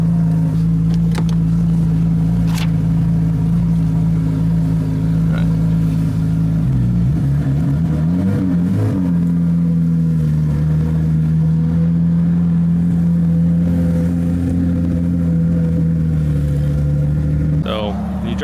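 Stock 3.8-litre Porsche GT3 engine with no aftermarket exhaust at a cars and coffee meet, a steady loud drone that swells into a brief rev midway and climbs again at the end, with people talking nearby.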